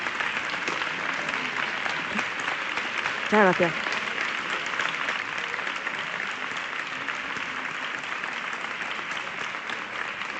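Audience applause for a speaker at a technology talk, a steady dense clapping wash lasting throughout, with a brief voice speaking over it partway through.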